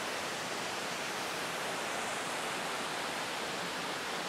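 A forest stream flowing strongly, a steady broadband rush of water, even and continuous and fairly faint, with no talk.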